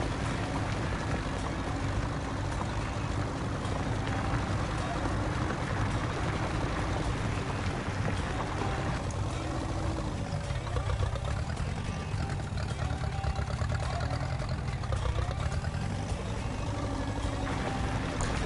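A tractor engine in Farming Simulator 19 runs steadily, giving a continuous mid-pitched mechanical drone that barely changes over the whole stretch, with no talking.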